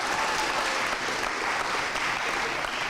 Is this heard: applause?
yes